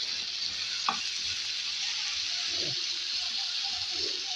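Bitter gourd fries in a pan with a steady, fairly quiet sizzle, broken by a few soft stirring scrapes and clinks; no speech.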